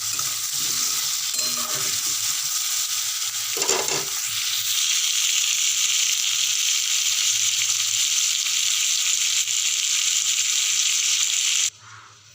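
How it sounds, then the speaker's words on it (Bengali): Mango pieces with salt and turmeric sizzle steadily in a pan for mango chutney, a close, even hiss with a brief stirring scrape early on, cutting off abruptly near the end. "নুন হলুদ দিয়েছি একটু দিয়েটাকে ভালো করে ভাজা একটুখানি করবো নাড়াচাড়া করবো"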